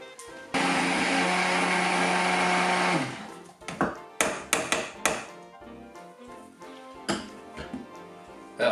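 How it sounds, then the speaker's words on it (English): A blender whirs loudly and steadily for a couple of seconds pureeing cooked tomatoes into paste, then stops, followed by scattered clanks and knocks of the jar and lid. "I'm going to use this little weapon, this little blender, to blend them into a nice smooth paste"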